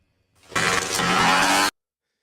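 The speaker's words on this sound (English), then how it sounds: "it sounds almost exactly like a two-stroke" Electric dirt bike with a two-stroke-like engine note, one loud, close burst of revving that holds steady for about a second and then cuts off abruptly.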